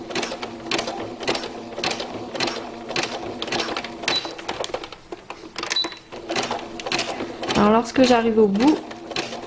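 Domestic sewing machine sewing a zigzag seam, its rapid rhythmic needle clatter running steadily under a woman's French speech, with a short whirring burst near the end as the fabric is backstitched.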